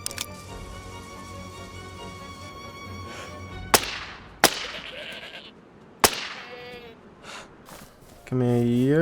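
A goat in a survival video game bleats near the end with a wavering cry, after a few sharp, loud cracks over a busy background.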